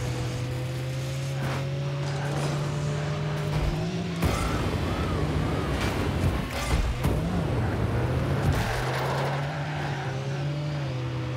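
Rocket League cars drive with a steady engine hum that rises and falls as they boost and turn, mixed with tire squeals, thumps and skids, loud and continuous throughout.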